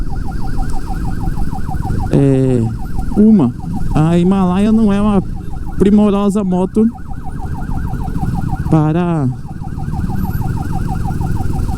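A federal police siren wails in city traffic, rising and falling in repeated sweeps, loud and close. A motorcyclist on a Himalayan 450 talks over it, and a steady high warbling tone runs underneath.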